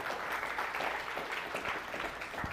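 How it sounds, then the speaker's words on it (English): Audience applause for the EcoTech presenters at an aquarium hobbyist event: continuous, even clapping from a crowd, steady and moderately distant, with no one speaking over it. "big round of applause then"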